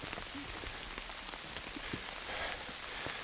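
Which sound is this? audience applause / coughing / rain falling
rain falling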